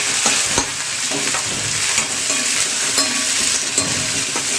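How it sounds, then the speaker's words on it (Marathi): Chopped onion with curry leaves frying in hot oil for a cabbage stir-fry, a steady broadband sizzle with intermittent scraping stir strokes, close and loud, no talking. "आपण जो कांदा चिरलेला आहे ना तो कांदा घालूया"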